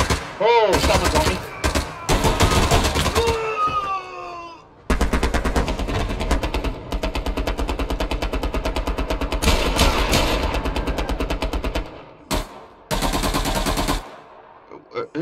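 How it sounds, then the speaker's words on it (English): Rapid machine gun fire in the World War II shooter Hell Let Loose hammers out in long, loud, close bursts separated by short pauses, with a few whistling sweeps and other game sounds early on. "Who's shooting that machine gun?"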